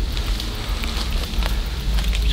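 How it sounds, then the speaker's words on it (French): Rain falls in a forest at night, a dense, close patter of drops with scattered crackly hits over a low rumble. "Il y a le bruit de la pluie"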